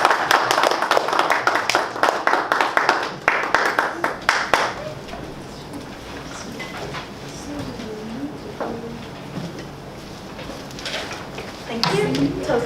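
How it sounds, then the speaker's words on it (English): A small club audience at a Toastmasters meeting claps for the general evaluator, a fairly close burst of hands for about five seconds that fades to room noise, then a voice talks briefly at the end. "A round of applause for our general evaluator."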